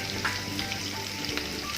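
Food frying in a pan gives a close, steady, bright sizzle with a couple of short crackles or stirring scrapes, and no one speaks.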